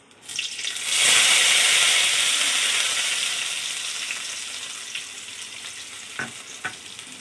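Grated coconut for rice pudding frying in a pan, a loud sizzle rising after a second and easing slowly, with a couple of faint clinks near the end.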